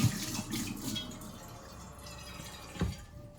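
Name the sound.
water being poured into a pan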